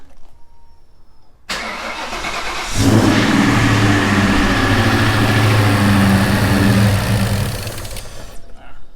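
A car engine cold starts after cooling system repair work, cranking briefly before catching, then running loud and steady with a raised rev before dropping away near the end.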